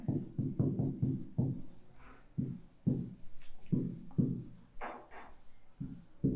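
Chalk or marker strokes on a board during a Hindi-language digital electronics lecture, a run of short scratchy bursts in an uneven rhythm, fairly close, with faint background noise between strokes.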